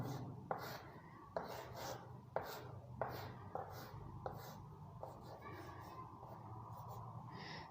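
A pen drawing dice figures on paper, heard as soft scratchy strokes and repeated taps in an irregular rhythm, close and quiet, with a voice speaking faintly at times.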